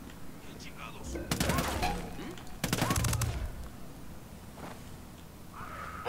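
Two bursts of rapid automatic gunfire from the video game Ghost Recon Wildlands rattle out close by, separated by a short pause, followed by quieter background noise.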